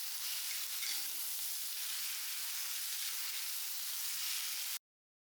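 Chopped potato, ginger and garlic frying in a pan, giving a steady bright sizzle that holds evenly and then cuts off abruptly near the end.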